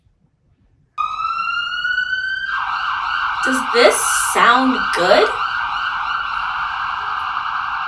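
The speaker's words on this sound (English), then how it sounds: "alarms and sirens are bad sounds on purpose" An emergency vehicle siren starts abruptly after a second of silence, a loud steady electronic wail that rises in pitch partway through and holds. A voice asks a short question over it.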